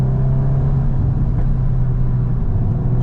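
A Mazda RX-8 rotary engine pulls hard on mountain roads in its special drive mode, a loud, steady, close-up drone that holds a constant pitch with slight rises and no voices.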